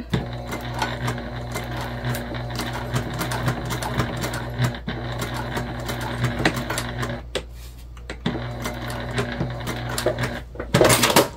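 A sewing machine top stitching a pocket runs in a fast, steady mechanical chatter, close and continuous, pausing briefly near the end before a short final burst.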